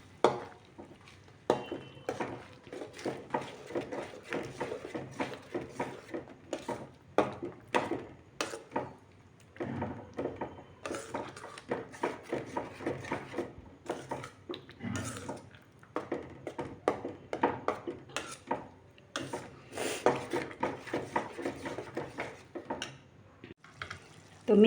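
A spoon stirring pav bhaji vegetables and tomatoes in a pan over frying heat, repeated scraping clacks in an irregular rhythm over a soft sizzle, close and moderately quiet, with no talking.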